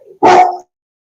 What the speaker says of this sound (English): the dog has to bark and chase after the cat